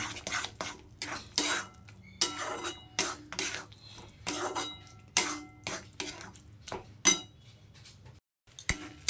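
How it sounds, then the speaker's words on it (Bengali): Banana stem paste stir-fried in a pan, repeated sharp scraping and clinking strokes of a spatula in an irregular rhythm, close and fairly loud. "আর একটু 2 থেকে 3 মিনিট একটুখানি কষিয়ে নেব।"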